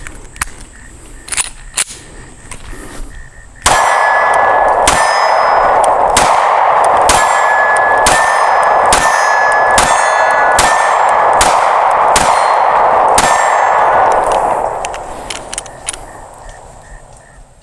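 A SCCY CPX-2 9mm pistol fired through a magazine outdoors, about eleven loud, sharp shots in a steady rhythm roughly a second apart, each with a ringing metallic echo, plus a few clicks before.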